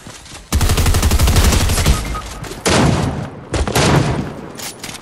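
Rapid bursts of automatic gunfire in the Fortnite video game come in three loud, close fusillades separated by brief gaps, with no voices over them.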